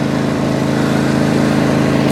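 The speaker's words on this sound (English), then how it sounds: "first lawnmower of the year." Lawn mower engine running on its first start of the year, a loud steady mid-pitched drone with no speech.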